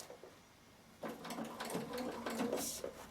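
Bernina sewing machine stitching with the right needle position along a row of satin stitching, a quiet rapid mechanical whirring that starts after a second of near-silence and runs on in uneven bursts.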